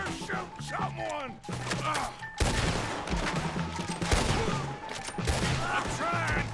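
A busy Red Dead Redemption II gunfight with rapid overlapping rifle and pistol shots cracking through the whole stretch, mixed with shouting voices and in-game chatter.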